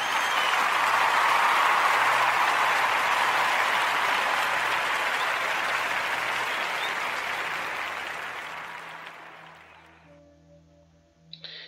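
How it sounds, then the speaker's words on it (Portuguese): A crowd's round of applause on a radio podcast comedy show, dense and steady at first, then gradually thinning and fading away over several seconds. "Merece até uma salva de palmas"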